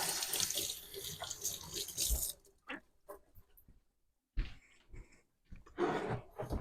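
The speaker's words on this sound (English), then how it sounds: "I'm going to rinse that off." A kitchen tap runs water while something is rinsed during homemade yogurt prep, a close gushing flow for about two seconds followed by brief, broken splashes and trickles.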